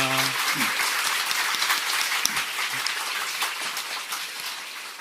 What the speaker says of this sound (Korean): 우리 박수로 한번 감사드리겠습니다